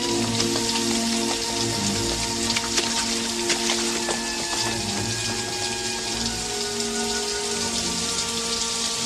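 Steady heavy rain from a nighttime rainstorm in the film The 'Burbs, a continuous hiss of drops pattering on surfaces, fairly close and constant throughout with no voices.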